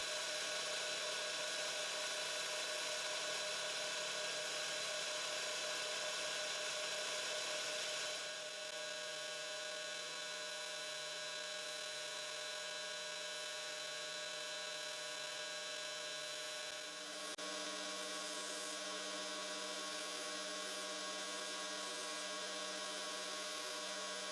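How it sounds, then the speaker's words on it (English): A maple finial spins on a wood lathe as a spindle gouge cuts it, giving a steady, close, high whining hum that shifts tone slightly twice as the cut changes, with no talking. "I begin working on the finial using a spindle gouge."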